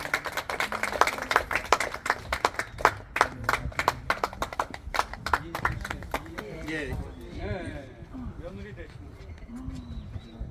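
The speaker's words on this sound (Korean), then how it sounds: "박수로 맞으시면 고맙겠습니다" An audience claps in welcome at a gathering at the former private residence of Korea's first president, with dense, brisk clapping that thins out after several seconds as talk takes over.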